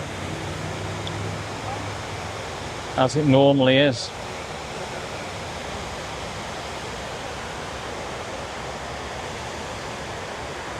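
Water pours steadily into the North Tower memorial pool waterfall in New York City, a constant broad rushing hiss throughout, with a brief burst of talk partway through.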